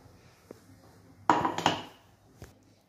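A pan is handled on the stove while a little oil is poured in, giving a couple of close metallic clanks and scrapes in a quiet kitchen, with a few soft knocks around them.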